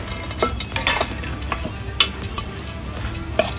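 Date (kharik) powder roasting in a pan while being stirred for methi laddu, a soft low crackle under repeated scraping and clinking strokes of a spoon against the pan, close and fairly quiet.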